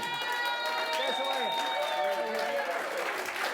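Studio audience at a National Lottery game-show draw applauding, a dense, sustained wash of clapping that holds at an even level, with a voice and music-like tones running over it.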